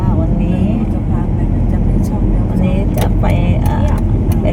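Car engine hum and road rumble from inside a moving car in Chanthaburi, steady and close throughout, with faint higher tones and clicks over the drone.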